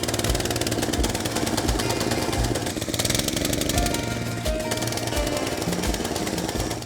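A small farm tractor engine throttles up and pulls away, giving a loud, steady, rapid thumping chug with a hard mechanical clatter and no speech.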